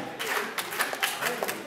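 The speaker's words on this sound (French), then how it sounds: "On applaudit Alfie Montana" An audience claps at a community diversity festival, a short burst of close, dense clapping with a few sharper individual claps standing out.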